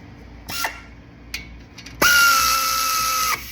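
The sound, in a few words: pneumatic air tool tightening brake caliper hardware on Acura MDX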